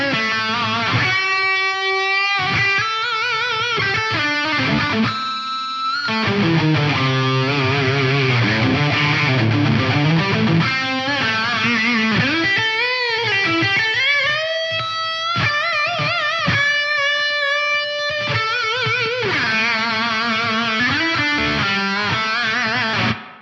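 Distorted electric guitar played through a plate reverb effect with the mix turned up, sustained chords and melodic lines ringing out with a smooth wash of reverb, loud and continuous with no talking.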